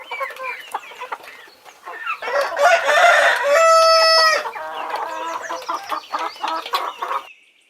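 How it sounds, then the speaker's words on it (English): Rooster crowing up close, a full cock-a-doodle-doo with a long sustained final note, framed by softer clucking and fowl chatter before and after. "rooster,"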